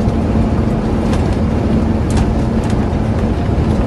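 A truck rolls down the road in neutral, making a steady broadband road and engine rumble with faint rattles and knocks as the body bounces, loud and continuous.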